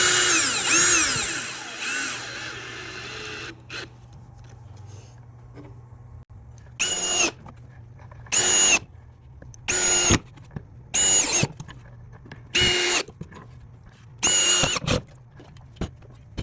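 Power drill whines in bursts as square drive screws with aggressive thread bite into weathered timber during nightstand assembly; a long squealing run first, then five short, loud, evenly spaced pulses separated by near silence.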